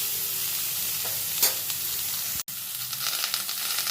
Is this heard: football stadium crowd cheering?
no